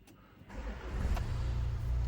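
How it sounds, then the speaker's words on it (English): Push-button start of a 2019 Land Rover Discovery Sport Landmark: a quiet interior, then the engine cranks and catches with a soft click, settling into a steady low idle rumble heard from inside the cabin. "I'm going to put my foot on the brake and I'm going to press the start button."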